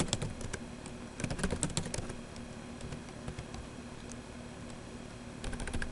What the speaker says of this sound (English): So let's go ahead and type something else here.